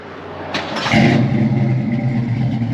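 A 1969 Ford Mustang Fastback (Sportsroof) cranks and fires up, its engine catching after a brief starter whir and settling into a loud, steady, rumbling idle close by.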